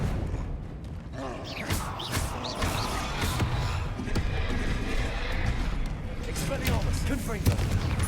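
Confringo blasting spells cast in the video game Hogwarts Legacy, repeated explosive bursts and impacts over a busy, loud combat soundscape, with a voice speaking throughout.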